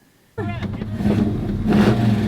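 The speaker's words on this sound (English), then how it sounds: "now she got to be in this loud and powerful car" A 1966 Beaumont with a 283 engine starts up and revs loudly, a deep rumbling roar building in intensity, close by.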